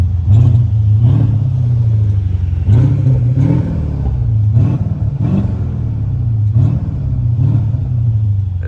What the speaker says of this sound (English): Let's start it up so you guys can hear the straight pipe